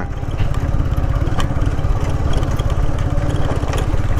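A TVS Apache RTR motorcycle engine runs loud and close with a steady throbbing, rapid mechanical pulse and metallic clatter, holding constant throughout without pauses.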